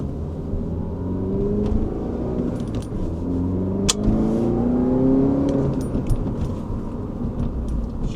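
A MINI Cooper R56 accelerating on the road, heard from inside as a steady engine drone with rising tones under continuous rumble and road noise, fairly loud and without talk.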